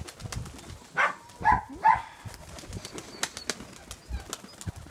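Pigeons flapping their wings in flight outdoors in strong wind, several quick bursts of wingbeats clustered near the middle, then fainter scattered flutters and wind noise, with a soft coo-like call.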